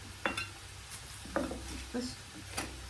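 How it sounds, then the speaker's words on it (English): Hamburger meat being stirred in a frying pan: a spoon scrapes and clinks against the pan in several separate strokes over a soft sizzle, close by and fairly quiet. "Let's go and stir the stuff, the hamburger."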